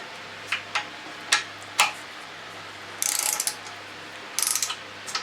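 A torque wrench ratchets while car frame bolts are tightened, starting with a few separate sharp clicks, then two dense bursts of rapid ratcheting, close and clear over a low steady hum.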